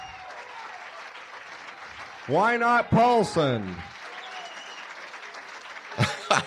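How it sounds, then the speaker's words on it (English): Audience applause for comedian Pat Paulsen, a continuous bed of clapping under a loud voice that speaks briefly in the middle. "Big round of applause, Pat Paulsen for"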